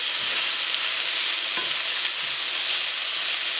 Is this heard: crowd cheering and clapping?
no